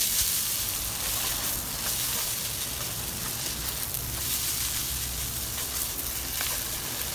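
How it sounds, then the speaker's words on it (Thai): Mama instant noodles being stir-fried and tossed in a hot pan produce a continuous crackling sizzle with occasional scraping stirs, close and moderately loud, with no talking. "ใส่เส้นมาม่าลงไปนะคะเราก็ผัดคลุกเคล้าค่ะให้ทุกอย่างเข้ากันค่ะ"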